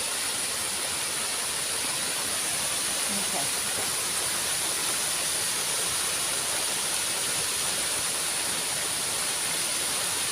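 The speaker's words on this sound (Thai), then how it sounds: "มันมีน้ำไหลออกมา" Steady rushing water pours continuously from rock near the sea, a dense broadband hiss like a small waterfall with no pauses.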